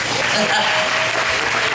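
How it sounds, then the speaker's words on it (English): A school Beta Club ceremony audience claps in a loud, dense burst of applause, brief and steady, with some crowd murmur mixed in. "Let's give him a big round of applause"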